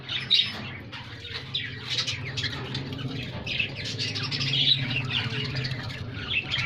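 Fallow breeding birds kept in a home aviary squawk and chirp repeatedly at close range, with soft wing flutters and busy overlapping calls.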